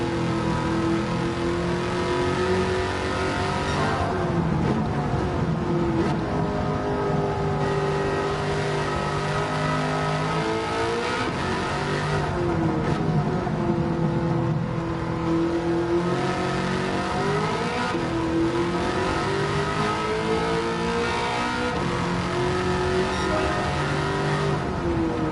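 An engine-swapped Trans Am in the Gran Turismo 7 racing game revs hard and continuously, its loud engine note climbing and falling through repeated throttle swells and gearchanges with no pauses.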